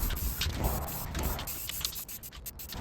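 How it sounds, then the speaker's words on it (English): An aerosol can spraying paint outdoors over cardboard onto a DIY light fixture, a close, hissing spray in short uneven bursts with faint rustling in between. "We're gonna spray paint this thing next."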